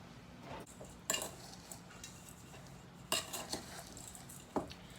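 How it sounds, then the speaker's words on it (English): A spoon mixing vanilla, sugar, flour and tapioca in a bowl, heard as three distinct clinking scrapes spaced a couple of seconds apart over a faint, quiet background. "let's go ahead and mix this with a better spoon"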